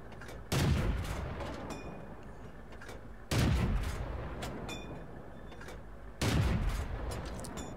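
M8A1 tank gun firing in a video game, three heavy booming shots a few seconds apart, each with a long rumbling decay, loud and close.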